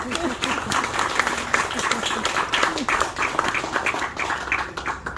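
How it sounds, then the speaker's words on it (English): A small group gives a round of applause, loud, close clapping with some crowd noise and overlapping talk throughout. "I give her a round of applause"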